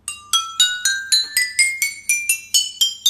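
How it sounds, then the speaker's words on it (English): Glass wine cups struck one after another to play music, about a dozen clear ringing tones rising steadily in pitch, each with a sharp attack and short decaying ring, no voices. "scrolling to YouTube shorts that played music by hitting glass cups"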